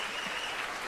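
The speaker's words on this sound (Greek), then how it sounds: "Μόνη μου χειροκροτώ τον εαυτό μου." One woman claps her hands alone in a television studio, a brief run of quick, dense claps, close and fairly loud.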